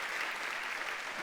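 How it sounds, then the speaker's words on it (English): Steady clapping from a live audience giving a round of applause to a tech crew, a soft, even wash of many hands that holds without pause, heard at a moderate distance. "maybe we could just give them a round of applause for the work they"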